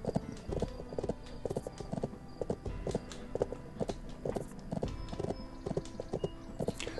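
Horse hooves clip-clop steadily in the video game Bibi & Tina at the Horse Farm, a regular close rhythm of hollow knocks as the horse walks over awkward terrain, with no voices over it.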